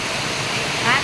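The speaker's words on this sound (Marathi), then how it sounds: "लय पाऊस चालू आहे" Heavy monsoon downpour and floodwater rushing through a lane in Surat, a loud dense roar of rain and flowing water filling the short stretch, with a voice speaking over it.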